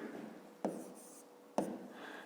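A pen writes on paper during a fifth-grade maths exercise, two sharp taps of the pen touching down followed by soft, faint scratching strokes.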